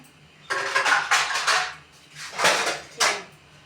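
Dishes and metal utensils clatter in a home kitchen in bursts of clinking and scraping, near and fairly loud, with short pauses between the handling.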